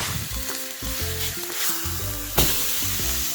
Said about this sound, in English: But we're gonna sear in the flavor.